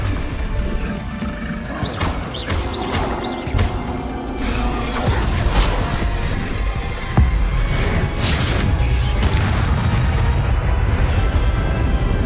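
A Confringo fire spell blasts in Hogwarts Legacy during a magic duel, loud crashing impacts and booms landing in bursts over several seconds amid other combat noise.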